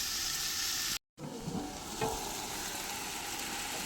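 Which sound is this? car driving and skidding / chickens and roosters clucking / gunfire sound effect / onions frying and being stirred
onions frying and being stirred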